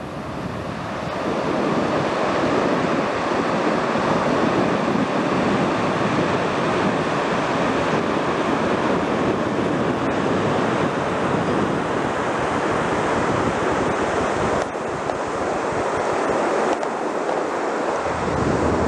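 Low-tide ocean waves wash steadily onto Coronado beach in winter, a continuous loud surf roar with wind buffeting the microphone and no voices.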